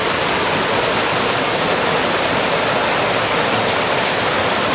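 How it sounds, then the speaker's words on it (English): A small waterfall in a hot, humid summer woodland pours with a continuous, dense, even rush of falling water, loud and close, with no voices over it. "There's a nice little waterfall in it."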